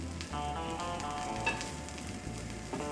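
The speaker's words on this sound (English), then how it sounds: "I've got some leftover taco meat here, down here so you can see it. And I just got it heated up on the grill." Leftover taco meat sizzling on a hot grill, a close, steady crackle and hiss with faint scraping stirs, no voices.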